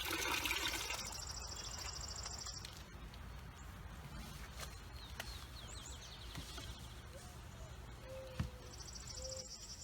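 Fresh, clean water runs steadily into a single car wash bucket fitted with a grit trap, a continuous close splashing rush with a brief faint knock near the end.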